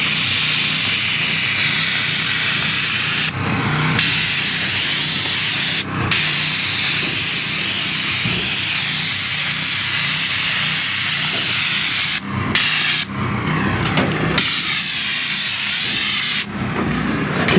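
A continuous hiss of Tremco liquid waterproofing sprayed onto ICF window openings, loud and close, broken by a few short pauses when the sprayer stops.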